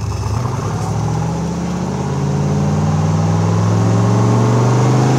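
A 1967 Chevrolet Corvette L71 with a 435hp engine rumbles steadily as it creeps back and forth on an incline, a loud, close, low engine drone that builds slightly without a break.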